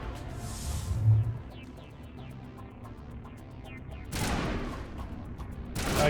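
Gunfire in a sci-fi shooter firefight in Mass Effect on Eden Prime, bursts of shots at a moderate distance with louder crackling volleys toward the end, alongside game ambience and no talk.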